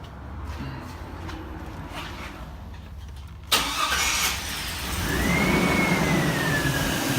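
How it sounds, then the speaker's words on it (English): Chevrolet Silverado engine cranks and fires with a sudden loud catch midway, then settles into a steady rising idle, heard close up after a quiet stretch without speech. "Let's go ahead and turn the vehicle on and see what we get with the vehicle running."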